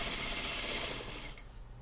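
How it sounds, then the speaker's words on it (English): A sewing machine runs a sleeve seam at a quarter-inch allowance, giving a soft, fast mechanical whirring and clatter that eases off toward the end; quiet and close, no talking. "from here I'll be stitching at 1/4 of an inch until I get the whole seam done"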